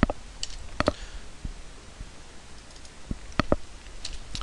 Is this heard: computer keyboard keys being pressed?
yes